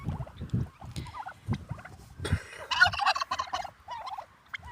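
A flock of turkeys gobble and chatter nearby in a series of rapid bubbling calls, interspersed with softer clucks and shuffling.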